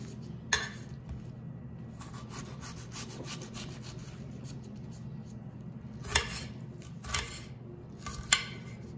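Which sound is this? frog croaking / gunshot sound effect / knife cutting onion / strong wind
knife cutting onion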